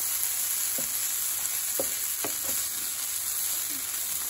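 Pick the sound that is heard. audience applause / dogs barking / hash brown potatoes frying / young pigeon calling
hash brown potatoes frying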